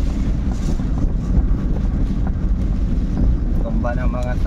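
Strong typhoon wind (Typhoon Kristine) roars steadily against the microphone in a dense low rumble, with a faint voice briefly audible near the end.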